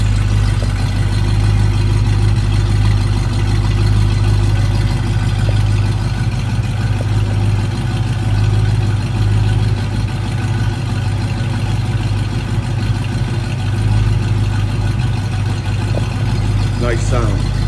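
1968 Mercury Cougar engine idling with a steady, deep, even rumble, heard close and continuous throughout, with brief light clicks near the end.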